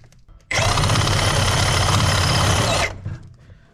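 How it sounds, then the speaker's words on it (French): A loud, harsh buzzing of a reciprocating saw cutting metal on a Citroën C25 TD 4x4 engine, running steadily for a couple of seconds and then stopping abruptly. "Mais si je prends la scie sabre,"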